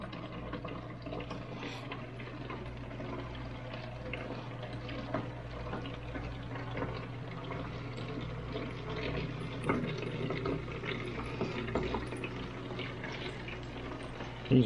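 A kegerator line-cleaning pump runs with a steady hum while liquid flows and splashes into a 2.5-gallon container, a continuous low-level trickling that lasts throughout.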